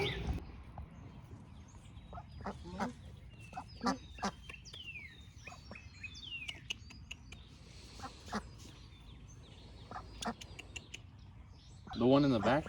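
Ducks near a coop outdoors give scattered quacks and chirpy calls among other fowl, moderately close but soft, with light rustling and a louder burst of calls at the end.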